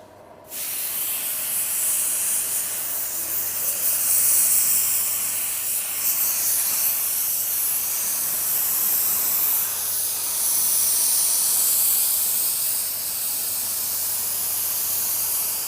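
An LVLP automotive paint spray gun, run off a small compressor, lays down a coat in a steady, close hiss of air and atomised paint that begins abruptly and holds for about fifteen seconds without break.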